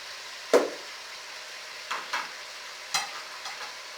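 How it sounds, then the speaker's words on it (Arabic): Pasta in a pan gets stirred with a spoon, making a few scattered, soft scraping knocks over a faint background sizzle. "المكرونه اهي بتتقلب معايا"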